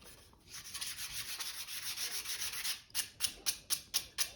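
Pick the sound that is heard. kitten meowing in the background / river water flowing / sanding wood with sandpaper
sanding wood with sandpaper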